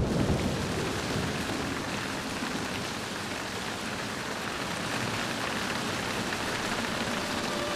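Heavy night rain pours down in a steady, dense roar, loud and close, with no pause and no voices over it.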